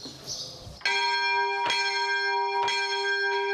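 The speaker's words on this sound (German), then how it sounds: "Kirchenglocken sind in der heutigen Türkei selten zu hören" Church bells ring on a Sunday morning in a village in Turkey, a few slow, resonant strokes that sustain and overlap, loud and clear without any talking.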